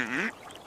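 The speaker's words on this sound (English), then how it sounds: "duck," A duck at a pond gives a single close, loud quack, short and nasal, heard alone.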